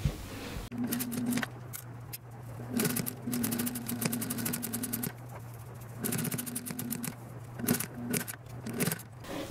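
A sewing machine runs close by as a straight seam is stitched to the end of a fabric face mask, giving a fast clattering hum in several bursts with brief stops between them.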